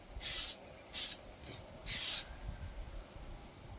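A spray can lays a light coat of paint on a Tamiya Hotshot RC model body in three short, close hissing bursts separated by quiet gaps.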